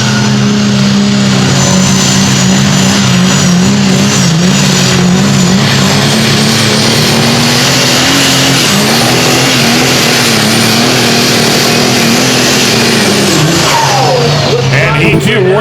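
A Pro Stock diesel pulling truck roars near at full throttle throughout a competition pull, its engine pitch wavering and climbing, while a commentator talks over it.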